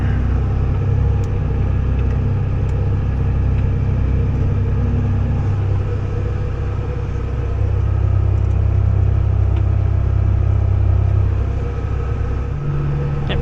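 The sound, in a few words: New Holland TG285 tractor plowing with International 700 plow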